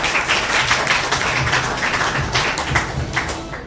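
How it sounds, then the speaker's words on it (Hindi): An audience claps enthusiastically for itself at a business talk, with a sustained wash of many hands clapping at a steady, dense rhythm and no speech over it. "जबरदस्त तालियां मारो अपने लिए।"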